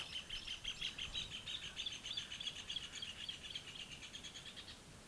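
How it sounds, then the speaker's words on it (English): Birds sing in a steady stream of high, repeated chirps and trills, moderately near, over a soft windy outdoor background. "There are some birds singing."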